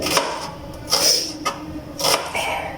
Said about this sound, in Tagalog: magkakat ako ng aking sibuyas